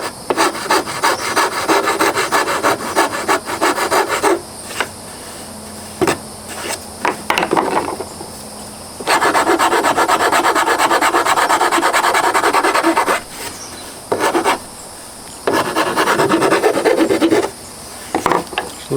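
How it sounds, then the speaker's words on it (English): Rasp filing on the wooden body of a cheap Telecaster-style kit guitar, delivered as bursts of coarse, rhythmic scraping strokes with short pauses between runs, close and fairly loud. "we're going to take off a little bit extra with the rasp here"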